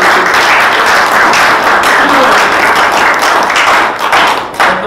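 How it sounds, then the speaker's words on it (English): Sustained applause from an audience, dense and loud clapping that fills the whole stretch and tapers slightly near the end, with no one speaking over it. "Let's give him a round of applause."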